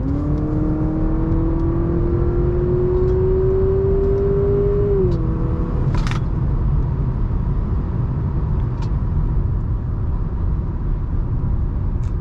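A 2023 Honda Accord Sport drives and turns around, its steady low engine and road rumble joined by a rising whine that levels off and fades midway, with a brief click and no talk.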